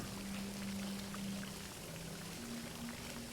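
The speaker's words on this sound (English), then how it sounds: "and the water was flowing" Water running steadily in the video game Myst IV: Revelation, a continuous broadband wash with a low droning hum beneath it, at an even level throughout.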